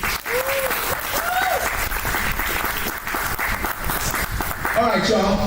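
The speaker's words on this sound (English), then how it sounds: "But applaud the poet, please." An audience at a poetry slam applauds a poet with sustained, dense clapping and some cheering, while voices call out over it.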